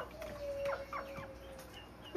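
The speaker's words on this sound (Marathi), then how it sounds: "हे बघ कोंबडा" A rooster at a lone house in the forest gives a few short, soft clucks at close range, with faint bird calls and quiet rural background around it.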